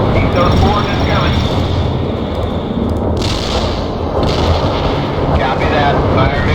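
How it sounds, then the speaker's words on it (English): Heavy artillery barrage in the real-time strategy video game World in Conflict, a dense loud continuous rumble of blasts with rushing bursts over it and no pauses. "Artillery firing."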